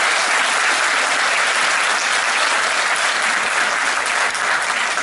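A crowd at a book-launch concert gives loud, dense, continuous applause that stays at full strength from start to finish, with no pauses or voices standing out.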